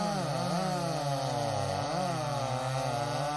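A Jonsered 2153 chainsaw and a ThunderKitten chainsaw bog down under heavy load while cutting wood, giving a loud, continuous, wavering engine drone with pitch dips as the chains bite.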